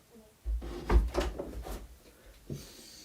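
A room door is pushed shut with a solid wooden thud and rattle, followed by a few lighter knocks and a faint later bump, heard close in a quiet indoor space.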